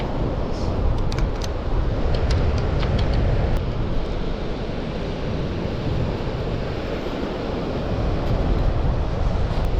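Surf breaking steadily on a shingle beach near Dungeness, a loud, continuous wash of rushing water mixed with heavy wind buffeting the microphone, with no clear pauses.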